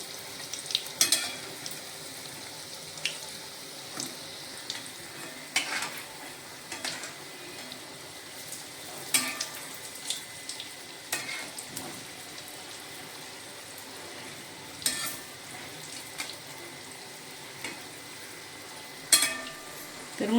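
Medu vada fry in oil over medium heat as they are flipped, a low bubbling sizzle punctuated by intermittent clinks and scrapes of a spatula against the pan, no speech.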